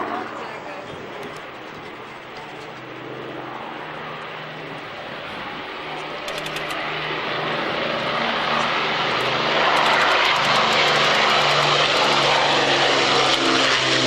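A Spitfire flies past at the RAF Waddington Airshow in 1993, its propeller engine drone swelling from distant to loud and near, while an announcer's voice comments over the public address.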